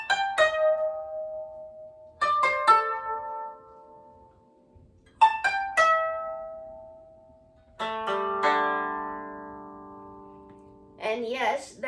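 Plucked koto notes from the first part of Hana Ikada ring out in sparse groups, each attack decaying slowly, with a denser cluster of pitches near the end. Solo and close, with no talking.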